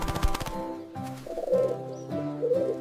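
A cartoon bird coos in soft, repeated warbling calls, two clear coo phrases standing out over layered background music and effects, moderately loud and close.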